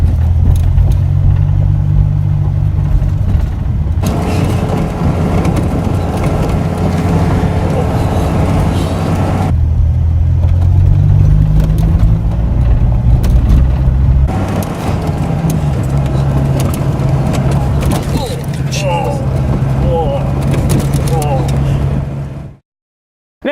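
Cabin of a Dodge Viper on the road: a loud, rumbling low engine drone that rises and falls as gears change, with road and wind noise filling the interior until a sudden cutoff.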